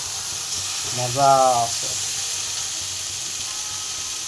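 Pigeon meat frying in a pan with a little salt gives a steady, close sizzling hiss that swells briefly, while a voice speaks a few words over it.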